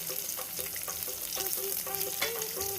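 Chopped onion and chili sizzle in an oil pan with peanuts while making poha, a close, steady crackle broken by scraping stir strokes, with no voices.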